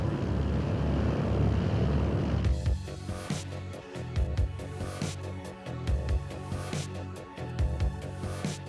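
A Douglas SBD dive bomber's piston engine drones with a low, heavy rumble, shifting into a rougher, pulsing roar partway through, loud and steady with no talk.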